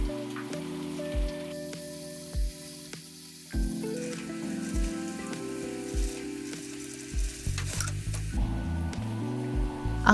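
A downpour of heavy rain patters and hisses without a break, a thick wash of drops close by with faint knocks and tones underneath, and nobody speaking.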